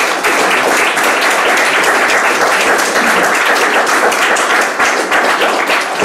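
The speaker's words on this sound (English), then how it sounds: "Yes, you can applaud." Audience applause at the close of a dialogue event, loud sustained clapping from a crowd, even and continuous throughout with no talking.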